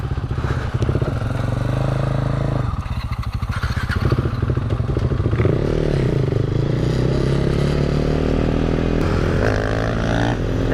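A 2016 KTM Duke 390 motorcycle engine idles loudly and close in cold weather, running with an uneven, lumpy throb and stumbling as it struggles toward stalling.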